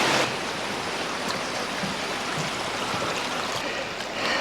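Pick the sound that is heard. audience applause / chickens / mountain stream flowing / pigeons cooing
mountain stream flowing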